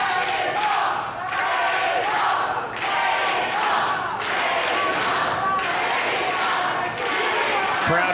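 Loud crowd at a professional wrestling show cheering and roaring steadily, with surging chants and occasional thuds, mixed with an announcer's talk.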